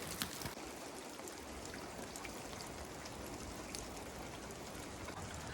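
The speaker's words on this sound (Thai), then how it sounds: "มันเป็นแบบฝนตกนะ ไม่ใช่ หิมะตกแบบเต็มๆ" Steady rain falls outside a rural shrine in Niigata, Japan, on a gloomy winter day, a dense, even patter of drops with a few sharper splashes, constant throughout with no voices.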